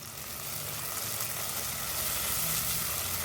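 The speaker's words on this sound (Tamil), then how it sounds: "தக்காளி பழம் கொஞ்சம் நல்லா மசியணும், அது வரைக்கும் வதக்கி விடணும்." Tomatoes and onions sauté in a pan for a mutton curry, a steady, quiet sizzling hiss that continues evenly throughout with no talking.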